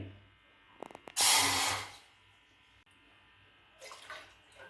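A quick splash of water poured into a cooking pot on the stove in one short gush, followed by a soft rattling noise of a pot or utensil nearby.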